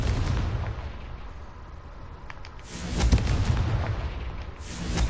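A fiery Confringo spell blast from the game Hogwarts Legacy lands as deep rolling booms, a heavy burst swelling around the middle and another building at the end, loud and close with no voices over it.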